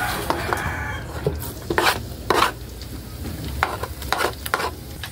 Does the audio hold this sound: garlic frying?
yes